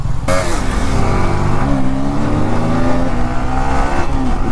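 A KTM Duke 200 and a Yamaha R15 rev hard off the line in a drag race, loud and close, with rising engine whine climbing through the gears before the roar starts to pull away.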